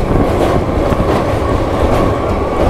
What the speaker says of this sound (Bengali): এই প্রথমবার আমি লোকাল ট্রেনে করে যাচ্ছি